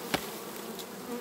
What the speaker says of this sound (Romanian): Ce de, ce de albine este la această colonie.